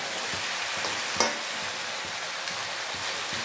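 Desi chicken frying in a pan, a steady close sizzle broken by occasional scrapes and stirring knocks from a utensil, with no talking.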